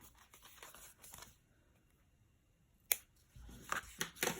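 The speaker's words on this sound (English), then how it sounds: "I'm going to take these scissors and just trim off the excess" Scissors trimming excess paper off a handmade foiled card, a few crisp snips at the start and a sharp cluster of cuts near the end, close and quiet with pauses between.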